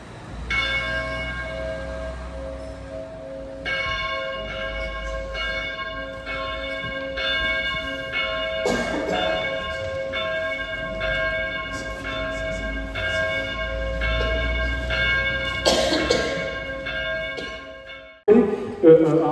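Three church bells ring together in a full peal, their overlapping strokes sustained and resonant, loud and close, with a brief noisy burst at the very end.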